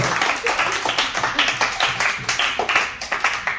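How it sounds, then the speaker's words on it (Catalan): A schoolroom of children clapping for a class that presented book recommendations, with quick, uneven, fairly close and loud claps repeating through the clip, with some voices mixed in. "Un fort aplaudiment!"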